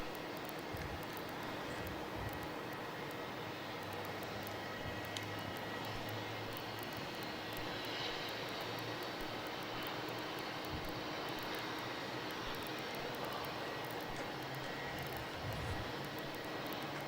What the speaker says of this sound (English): there's Air India out the door